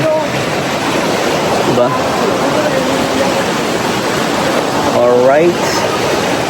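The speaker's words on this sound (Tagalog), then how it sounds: "Napakaswabe ng ilog nila dito." A river at Huyok rushes in a steady, broad wash close by, continuous throughout, with someone speaking briefly over the flowing water.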